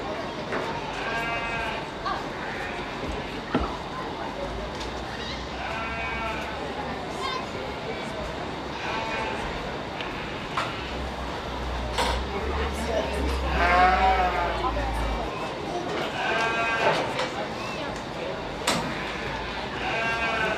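Goats bleat repeatedly at a county fair goat show, several wavering calls rising over a busy barn crowd, with an announcer's voice speaking over the animals through much of it.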